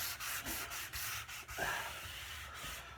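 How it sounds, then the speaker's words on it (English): Sandpaper rubs across a wooden dining table piece to take off sharp edges, a run of steady scratchy back-and-forth strokes, close and fairly quiet, with no talking. "just giving it a little sand there so no sharp edges"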